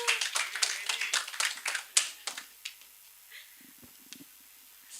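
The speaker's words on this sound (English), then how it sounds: "Round of applause, please" Scattered clapping from a small audience welcoming a speaker at a livestreamed student event, a few seconds of sharp claps thinning out into quiet room noise.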